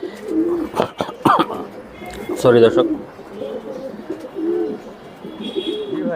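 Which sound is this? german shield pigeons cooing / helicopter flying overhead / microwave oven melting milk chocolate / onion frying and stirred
german shield pigeons cooing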